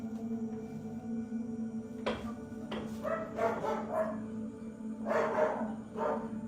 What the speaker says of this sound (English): something can be heard knocking, agitating their dogs